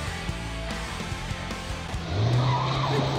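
A car in a drama scene skids hard, tires squealing in a loud rising screech that builds through the second half, over engine rumble and tense background music.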